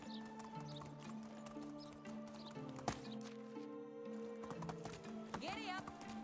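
Horse hooves clip-clop in a steady rhythm in the medieval game Medieval Dynasty, with a neigh near the end, all under continuous talking and game sounds.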